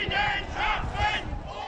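A crowd of protesters at an anti-war rally in Berlin chants and shouts together, a dense, fairly close mass of voices rising in rhythmic surges over under two seconds.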